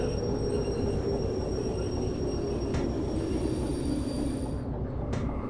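A train in the Derail Valley simulator rumbles steadily with low mechanical drone and faint high whine, continuous and close, with a couple of brief sharp clicks.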